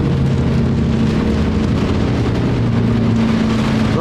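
Heavy rain falling on a moving car: a dense, loud, steady roar of rain with low road and engine rumble beneath, continuous and without talk.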